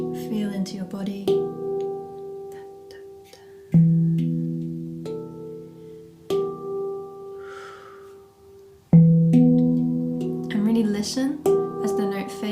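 A handpan is struck several times with clear, deep tones, each note ringing on and slowly fading into the next; a few sustained strikes overlap in an unhurried pattern.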